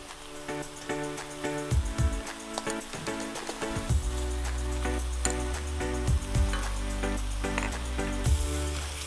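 Pineapple and mushrooms sizzle steadily in a hot pan as they are stirred. A continuous frying hiss runs under repeated scraping and clacking of the utensil against the pan.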